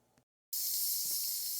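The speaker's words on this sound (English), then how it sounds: "We got a little steam coming out." Steam hisses steadily and loudly from a pressure cooker making artichoke heart risotto, starting abruptly after a brief silence and continuing as a close, unbroken hiss.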